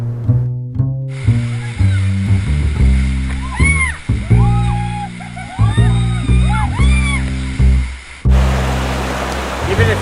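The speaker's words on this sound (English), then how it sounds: "Whitewater rafting is a big part of what we do in Golden." Whitewater on the Kicking Horse River near Golden, BC surges and splashes around a raft. Loud rushing water breaks in near the end after a stretch dominated by tonal, voice-like sound.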